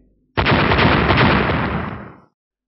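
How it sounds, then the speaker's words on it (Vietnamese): A sudden, loud blast swells into a roaring rumble lasting about two seconds, then fades out. "Liên tiếp những tiếng nổ lớn vang lên chấn động bầu trời."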